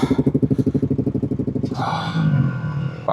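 Suzuki and Honda racing motorcycles warming up on a Sunday morning at a race meeting at Hooton Park, a loud pulsing idle close by before one engine revs up and swells, with no speech.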